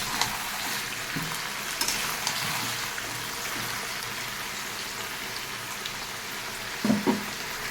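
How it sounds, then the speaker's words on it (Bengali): Potatoes frying with salt in a pan keep up a soft, continuous sizzle, with a couple of faint scrapes and knocks near the end. "আলুটাকে ভালো করে একটু ভেজে নিচ্ছি।"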